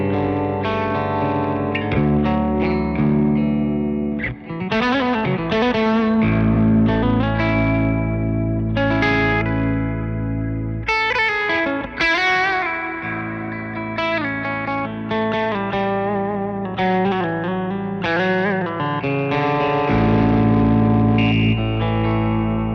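Electric guitar with a coil-split single-coil pickup in a low tuning plays through a Victory Sheriff 22 amp, a continuous chordal passage with chorus, echo and slight grit, loud and close with no talk.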